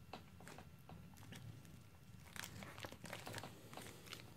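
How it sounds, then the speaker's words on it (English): A small plastic bag in a survival tin kit crinkles and crackles as it is handled, making quiet, irregular close-up rustles. "not super necessary, but I packed it in a little plastic bag."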